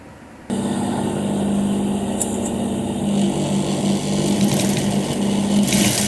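A sewing machine stitching a lungi starts after a short pause and then runs at a steady, close, whirring hum with an even rhythm throughout, with no voices.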